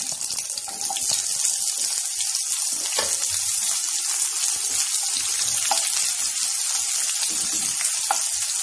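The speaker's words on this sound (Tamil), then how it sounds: "2 பெரிய வெங்காயம் நீல வாக்குல நறுக்கி வச்சிருக்கோம்" Two large sliced onions go into hot oil in a kadai while making chana masala for chola puri, giving a steady, bright hiss and sizzle that runs continuously and fairly loud throughout, with no talking.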